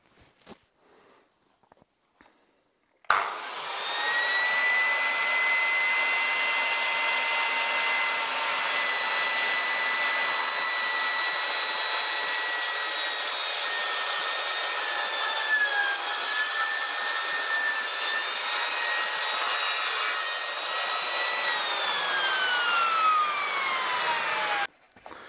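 A Metabo KGS 216M miter saw starts with a sudden whine and runs at a steady, loud tonal drone for about twenty seconds, then winds down, with faint handling noises before it starts.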